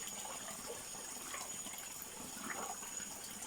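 Water draining out through an opening at the bottom of a water storage tank, a continuous gushing, splashing flow, steady and moderately close, with no talking.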